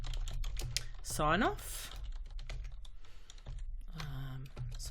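Computer keyboard typing while entering text into a spreadsheet cell, steady clicks under a person talking throughout.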